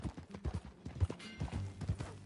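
Horse hooves clip-clopping while riding in Red Dead, a steady rhythmic patter of hoofbeats close by with occasional low thumps and creaks underneath.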